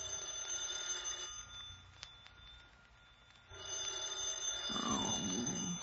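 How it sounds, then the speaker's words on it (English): An old-style telephone rings in a radio drama, two clear ringing bursts separated by a quieter pause, moderately loud in a quiet room. "I was working on my fifth drink when the phone rang."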